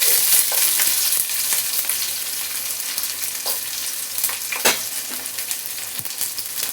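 Ingredients for mint rice sizzle steadily in a hot pan, a continuous frying hiss with occasional stirring clicks and scrapes, close and fairly loud, with no voices.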